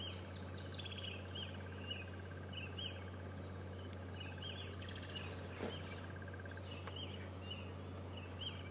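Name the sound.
red-billed oxpeckers calling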